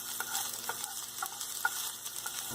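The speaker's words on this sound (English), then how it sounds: "We have to saute this onion for 2 minutes." Onion sautéing in hot oil in a pan, a steady soft sizzle with scattered light scrapes and stirring clicks, fairly quiet, with no voices.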